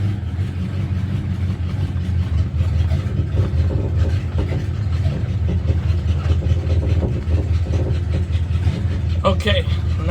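A 1979 Dodge Warlock truck engine idles loudly and steadily, a deep, constant rumble held close throughout, with a brief rattle near the end.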